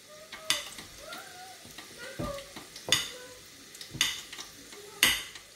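Potato fries with salt sizzle and crackle in a frying pan, punctuated by several close, sharp stirring scrapes and clatters of a utensil against the pan.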